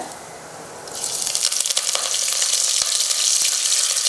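Curry leaves hit hot oil while a country-chicken kuzhambu is being tempered, bursting into a sudden loud, crackling sizzle that rises sharply and then holds as a steady hiss with scattered pops, close up with no talk.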